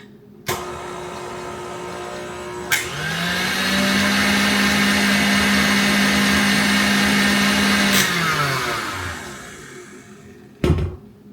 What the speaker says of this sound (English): And then we'll mix it up just until it's incorporated.